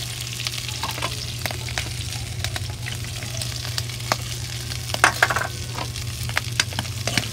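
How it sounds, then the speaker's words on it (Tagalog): Spices stirred and sautéing in a hot pan, a steady low sizzle broken by scattered scrapes and clicks of a utensil against the metal, close and continuous with no talk. "Halo-halo lang mga kabarako hanggang sa medyo maluto yung rekado."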